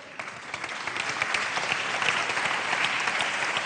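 An audience applauds at a national awards ceremony with steady, dense clapping that builds slightly and holds at an even level throughout, with no voices over it.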